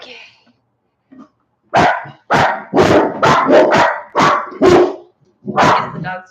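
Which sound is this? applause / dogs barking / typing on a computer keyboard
dogs barking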